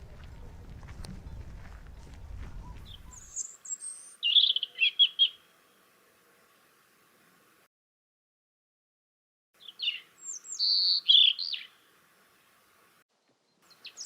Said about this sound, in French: Le rouge-gorge m'a sifflé à l'oreille ce matin.